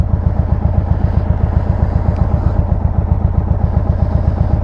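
A 2022 Indian Chief motorcycle riding slowly with rear cylinder deactivation cycling on and off, its engine making a loud, close, rhythmic low thumping pulse that stays steady throughout.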